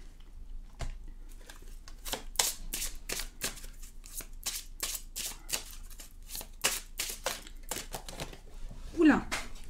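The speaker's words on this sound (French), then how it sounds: "Oula, plusieurs cartes, je vais les récupérer." Oracle cards shuffled and handled during a French card reading, with a long run of quick, crisp riffling flicks and slaps close to the mic and a few soft rustles as cards are gathered up.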